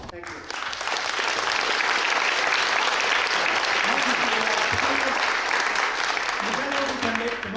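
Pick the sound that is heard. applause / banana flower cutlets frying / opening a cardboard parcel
applause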